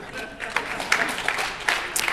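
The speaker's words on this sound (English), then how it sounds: "You should applaud." Scattered applause from a conference panel audience, a few bursts of clapping, moderately loud, with a voice talking over part of it.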